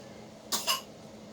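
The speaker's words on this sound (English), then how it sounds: "She's coughing at me and looking at me." Two quick, short coughs close by, separated by a brief pause, against quiet background.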